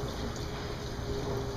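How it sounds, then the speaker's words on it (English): Steady trickle and rush of an indoor waterfall, a continuous even water noise close by with no talking over it. "they actually have a waterfall here"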